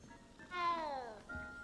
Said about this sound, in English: We do get to see Professor Black play with a cat.